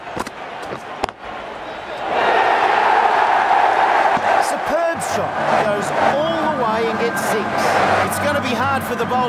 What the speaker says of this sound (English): hard for the bowler to focus with the crowd this excited.